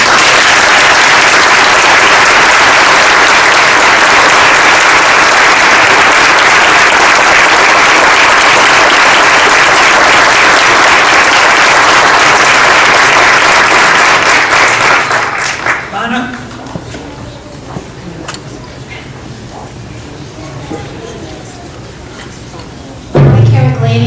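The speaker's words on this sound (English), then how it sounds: "So I applaud them." A school board meeting audience for District 81 bursts into loud, sustained clapping for about fifteen seconds, then the applause cuts off and quieter room sounds and a voice follow.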